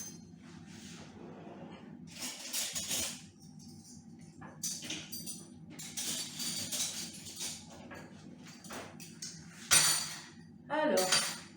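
A metal spoon clinks and scrapes against a bowl and glass while filling cookies with Nutella: irregular clusters of sharp clinks and scraping, some louder near the end, with a voice speaking faintly in the background.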